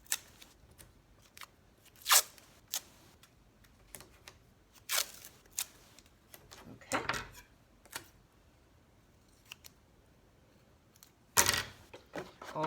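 Scissors cut a letter shape out of cereal box cardboard, giving sparse, sharp snips and crunches at irregular intervals, close and quiet, with no talking.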